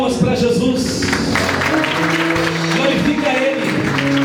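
A rural Assembly of God congregation at a church festival claps in praise, scattered applause mixed with sustained voices and musical tones, fairly loud and continuous.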